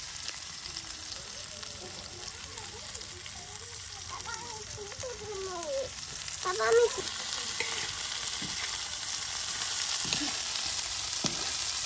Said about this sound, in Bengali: সব কিছু আপনার একসাথে দিয়ে এখন উলট পালট করে নেওয়া হচ্ছে।